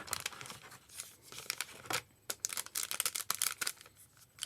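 Cardboard and paper packaging of an Apple wireless keyboard box being torn open, sharp ripping and crinkling bursts in quick succession, close and fairly loud with brief pauses.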